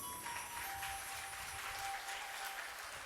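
Steady applause from an audience at a Hindi religious discourse, a dense continuous clapping wash at moderate level with no pauses throughout.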